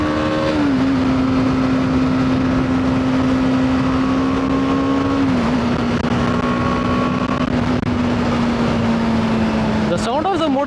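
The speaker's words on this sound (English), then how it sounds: "The sound of the motorcycle is super addictive." A BMW G310R motorcycle engine drones loud and steady at high revs through a launch, the pitch holding then shifting slightly, with heavy wind rush throughout and a brief rise near the end.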